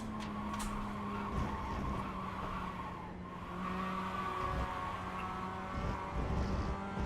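Mazda MX-5 race cars on a damp Oschersleben circuit in a sim racing game, a steady engine drone with tyre hiss and brief skids, heard close from the cockpit without any talk.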